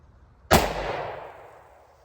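A single loud gunshot from a .410 snubnose shotgun fired at a target from 7 yards, a sharp sudden blast followed by a decaying echo tail in an otherwise quiet setting.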